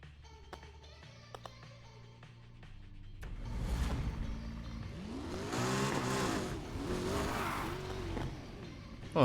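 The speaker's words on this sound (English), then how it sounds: "let's go ahead and hit the road again, but this time I'm gonna cruise around in my Lambo" A Lamborghini Aventador drives in the racing game Need for Speed Heat. A quiet stretch leads into a loud engine roar with rising and falling revs and some tire noise, and it ends on a sharp burst.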